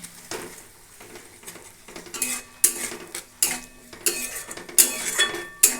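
Spice paste sautéed with a splash of water while a metal spoon scrapes and knocks repeatedly against the pan, bursts of sizzling between the strokes, close and fairly loud, for a village-style green jackfruit curry.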